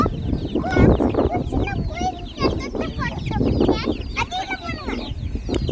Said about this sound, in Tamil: கோழி குஞ்சு கோழி குஞ்செல்லாம் கொத்துறதுக்கு வருது பாருதா?